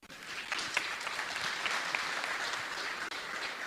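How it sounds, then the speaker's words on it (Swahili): Audience applause in a university hall, a steady dense clapping that holds evenly for a few seconds, close and loud with no voices over it. "Tumpigie makofi"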